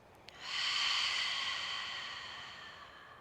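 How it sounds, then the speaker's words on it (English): A single deep breath drawn in through the nose and let out through the mouth outdoors during a yoga session, with a brief sniff at the start, then a long, steady breathy exhale that fades slowly, close and soft, with no talking. "take a deep breath in through your nose and through your mouth, exhale"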